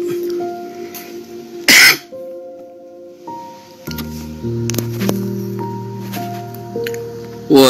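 Coughing and throat clearing in a quiet room: one sharp, loud cough burst near the start and another at the end, with softer throat sounds and faint rustling between, over a steady hum of held tones.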